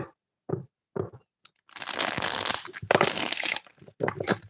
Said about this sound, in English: Let's shuffle the cards real well.